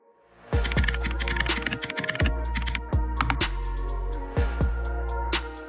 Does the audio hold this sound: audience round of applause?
no